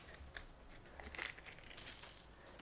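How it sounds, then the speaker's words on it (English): Small bags of metal rivets emptied out during leather wallet making, giving a quiet crinkling rattle with a few brief clinks and a louder cluster of crunching taps midway. "So I'm just going to empty those bags out"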